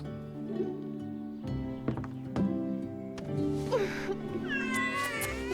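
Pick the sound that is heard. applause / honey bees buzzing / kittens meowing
kittens meowing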